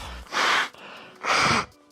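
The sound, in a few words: person blowing their nose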